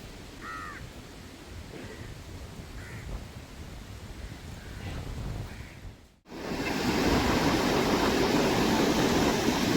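Ocean surf washes in continuously with wind noise at a beach in Kundapura; a few crow caws ring out early, then the surf grows louder and fuller after a brief cut.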